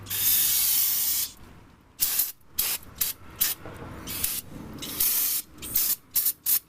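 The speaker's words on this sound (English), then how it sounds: "Let's just hose this down." Brake cleaner aerosol sprayed onto front brake parts of a 2015 Chevy Traverse or Buick Enclave, a loud steady hiss at first, then a series of short sharp spray bursts with quiet gaps between.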